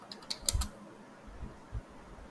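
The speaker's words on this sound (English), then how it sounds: "type the locations just left and just hit enter" A few quick keystrokes on a computer keyboard while entering a terminal command, soft and fairly close, with low thumps and a quiet background.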